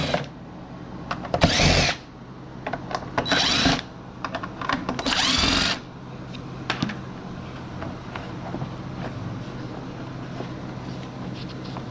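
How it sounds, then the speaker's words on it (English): A power drill backs out Phillips head screws on a 2001 VW Jetta in three short, loud whirring bursts, with quiet handling clicks and rattles in between. "Next, I'm going to remove the 4 Phillips head screws up here."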